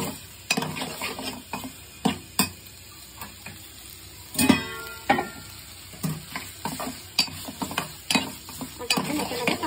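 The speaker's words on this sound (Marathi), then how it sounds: "आता गाईस आपण बटाटे सोडूया पहिले आणि परतून घेऊया छानपैकी बटाटे सकटच" Unpeeled potato pieces frying in a pan for a Goan curry, stirred with a spatula: a steady close sizzle broken by sharp metallic scrapes and clacks at irregular intervals, with no voices.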